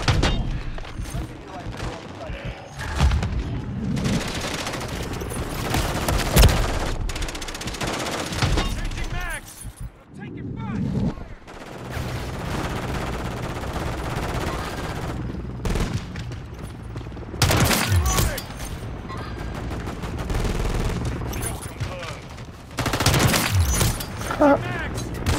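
Gunfire rattles through a multiplayer shooter video game in dense bursts and heavy volleys, loud and sustained with brief lulls, while players talk over it.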